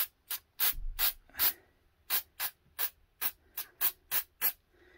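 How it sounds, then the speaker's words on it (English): Super glue hardener sprayed from a small can during tattoo cartridge making, about a dozen short, sharp hissing bursts in quick succession, close up and alone. "I'm just going to spray this so it hardens"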